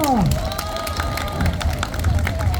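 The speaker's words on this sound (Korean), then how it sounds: "큰 박수로 응원합시다" Crowd applause and cheering fill the space, dense clapping under a swelling murmur of voices, with some speech-like tones drifting through at the start.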